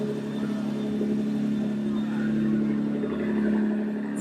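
A Ford ETS 35R race car passes by at steady volume, its engine a continuous mid-pitched drone that swells slightly toward the end, with voices faintly present underneath.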